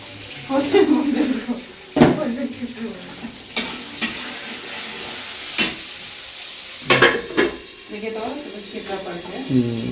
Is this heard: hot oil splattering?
yes